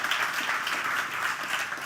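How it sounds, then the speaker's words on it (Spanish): Audience applause at a tenth-anniversary celebration event for installers, a dense, steady round of clapping from a crowd, continuous for the whole stretch and moderately distant. "un aplauso muy fuerte para ellos"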